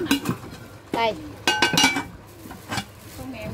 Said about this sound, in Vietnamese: Rồi một cái con nhôm hai đầu nè, có thể sử dụng là một cái nồi,